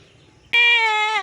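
A goat on a farm where does have just given birth lets out one loud, close bleat that starts suddenly, holds steady for most of a second and cuts off, with no talking.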